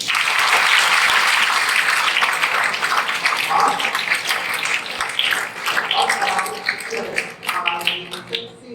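Audience applause at a success seminar, loud and sustained clapping from a crowd that holds steady for several seconds before thinning into scattered claps toward the end.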